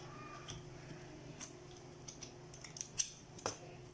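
Scissors snipping material while wrapping high heels, a series of quiet, close, irregular clicks and cuts.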